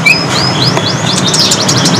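A green leafbird (cucak hijau) in an agitated mood sings clear, repeated rising whistled phrases and chirps, close and loud over steady background noise at a bird-keeping spot.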